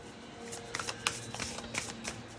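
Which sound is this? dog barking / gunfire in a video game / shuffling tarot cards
shuffling tarot cards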